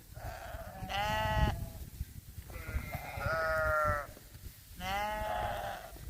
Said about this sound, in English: I guess I have some noisy sheep up there.